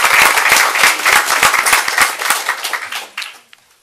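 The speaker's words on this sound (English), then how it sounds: "So let's give him another round of applause." A round of applause at a school board of education meeting, dense clapping from a small crowd that tapers off and stops after a few seconds.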